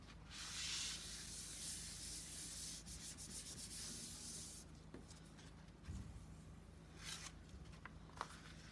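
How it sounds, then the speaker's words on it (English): A spray bottle spritzes water over a grungy pen-and-ink art piece, a soft airy hiss opening the clip, then further quieter spritzes and rubbing sounds close by in a hushed room. "then we're going to spritz it"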